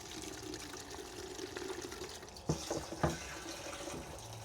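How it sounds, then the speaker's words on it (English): Water runs steadily into a container, with a few louder splashing bursts partway through over a continuous low pouring hiss. "just add a little bit of water to this container"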